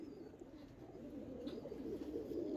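Soft, steady cooing from a female pigeon of a fine fancy breed, part of a pigeon collection, running throughout as a low, continuous murmur without pause.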